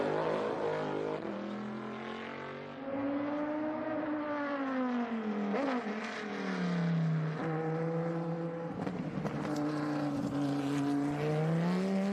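A Dodge Viper race car in a Le Mans class group race at the Velocity Invitational, its engine note loud and close, rising and falling steadily through gear changes as it drives the track, with no talk.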